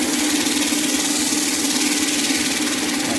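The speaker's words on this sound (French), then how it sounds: "Voilà, la ponceuse est maintenant terminée." A homemade roller sander built around a salvaged washing machine motor with a speed controller runs at a steady pitch, giving a close, continuous motor hum with no break.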